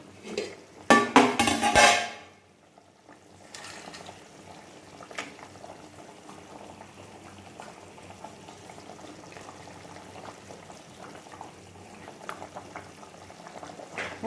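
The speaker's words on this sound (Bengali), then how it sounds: "দেখো ঝোলটা ফুটে গেছে" Fish curry broth bubbles in a pot, a steady low simmering hiss that runs throughout after a short burst of clattering utensils against the pot at the start.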